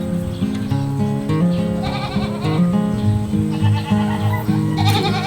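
Goats on a Filipino farm bleating repeatedly, several overlapping wavering calls from close and mid distance, loud and continuous with a busy farmyard backdrop.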